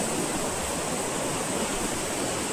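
Water rushing steadily through a canal beneath an iron bridge at Iron Forest, Andhra Pradesh, a continuous broadband roar that stays close and even throughout, with no voices over it.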